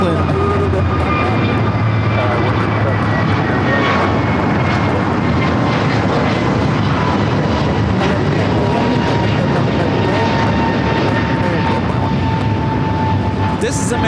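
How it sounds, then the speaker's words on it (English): An Air New Zealand Boeing 777-300ER, Flight 6 from Auckland, touches down on the south side runway at LAX; a loud, steady broadband jet roar with a low rumble holds throughout, close and continuous with no talk. "Air New Zealand 777 at 300 ER, touching down here on the south side."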